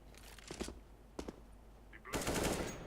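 Gunfire in the video game CS:GO, with a few sharp shots early on and then a dense, loud burst of rapid fire near the end over a steady low game background.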